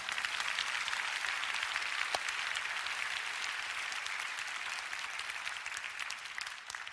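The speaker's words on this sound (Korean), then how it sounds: "지금 여러분 박수 쳐주셨잖아요" A church congregation applauds at a prayer gathering, a steady even patter of many hands clapping at moderate volume, fading slightly toward the end, with no talking over it.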